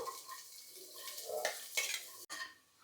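Onions hit a pan of browning garlic and sizzle quietly while being stirred, with scraping utensil strokes and light clinks against the pan, close and brief.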